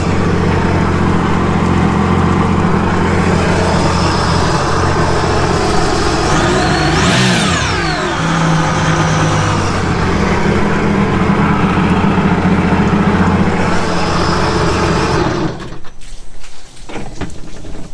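A Sea-Doo RXP-X 260 jet ski engine runs loud and close after a slow crank from low voltage, a steady rumbling drone with a brief rise in pitch midway, then roughening toward the end.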